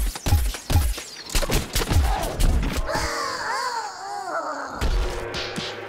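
Cactus-character gunfire in the video game Plants vs. Zombies: Garden Warfare, a run of loud, close, thumping shots in quick succession, followed by whooshing and warbling game effects and a final thud.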